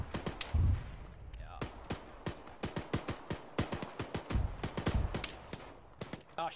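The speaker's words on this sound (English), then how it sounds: "Goddamn mortar." Mortar fire and explosions ring out in a Chechen war video game, a steady run of sharp blasts and thuds, some loud booming impacts among quicker repeated reports, with a voice briefly heard.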